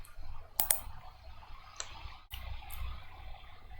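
A computer mouse clicking while working in Android Studio, a few sharp, close clicks, including a quick double click, against a faint background hum.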